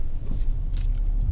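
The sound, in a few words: 2017 Ford Expedition engine started by push button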